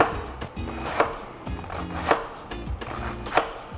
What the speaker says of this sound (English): You want a nice sharp knife, and you wanna just shred.